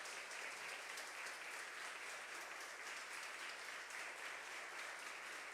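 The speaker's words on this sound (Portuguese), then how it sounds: "Será que você pode aplaudir o Senhor?" A church congregation claps steadily and evenly for several seconds during a Communion service, a sustained wash of applause heard at a moderate distance with no talk over it.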